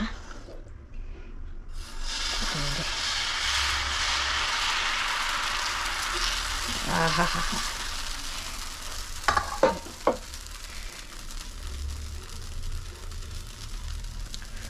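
Onion dosa batter sizzles steadily on a hot pan, a soft continuous frying hiss with a few light scrapes and clinks of utensils near the middle and end.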